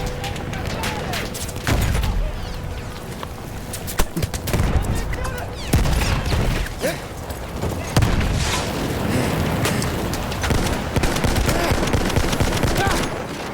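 Battlefield gameplay with artillery shelling, rapid automatic gunfire and booming blasts crashing in dense, irregular bursts, loud and close, while a player talks over the din.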